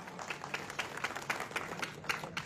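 Crowd at a village statue unveiling ceremony for Babasaheb Ambedkar applauding, a brisk burst of uneven clapping from many hands, moderately distant and sustained throughout.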